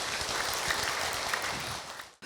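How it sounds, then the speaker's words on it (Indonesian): A crowd applauds during an Indonesian religious talk show gathering, dense steady clapping filling the clip before cutting off abruptly near the end. "sekali lagi tepuk tangan Ibu"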